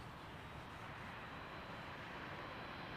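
Air Canada 787-9 Dreamliner airliner at Toronto Pearson airport at night, a steady, broadband jet engine roar held evenly throughout without a break, no one talking.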